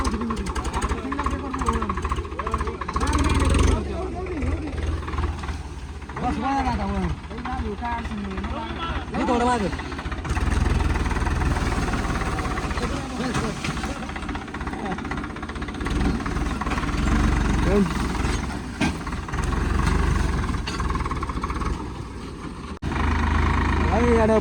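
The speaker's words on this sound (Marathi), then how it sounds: "आता आपण ट्रॅक्टर वळून घेतलेलं आहे" Tractor engine running steadily close by as the tractor turns on a steep slope with a load of fodder, a continuous rumble with knocking under frequent talk.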